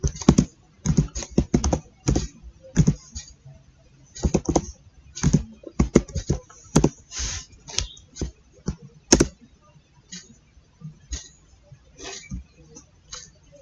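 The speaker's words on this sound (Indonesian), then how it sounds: "kita ketik ping, masukkan IP yang sudah didapat" Someone types a ping command on a computer keyboard: rapid, irregular clusters of close, crisp key clicks with short pauses, fairly loud and alone.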